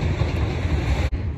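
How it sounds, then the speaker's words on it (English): A passing train gives a loud, steady low rumble with wind buffeting the microphone, heard alone with no talking. "let's wait for this train to pass"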